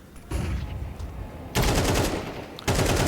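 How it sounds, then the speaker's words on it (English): Gunfire in Counter-Strike 2 during a LAN tournament final, three loud bursts of rapid automatic fire with short gaps between them, close and dominant. "Bullets fly. Good hits coming in from Prospect."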